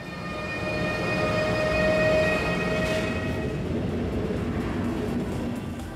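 Class 223 diesel locomotive hauling double-deck coaches out of Munich Hauptbahnhof, a steady loud rumbling roll with high squealing wheel tones fading, all alone without talk.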